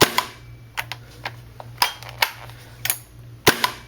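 A G&G gas blowback M4 airsoft rifle is dry-fired without BBs, giving about ten sharp, loud, close cracks in an irregular semi-auto rhythm, with mechanical clacks between shots.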